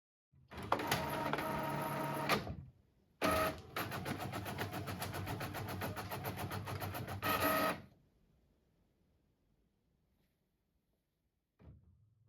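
A printer printing out a page: a loud mechanical whirring feed run, a brief pause, then a longer steady grinding pass that stops abruptly, followed by quiet and a faint click.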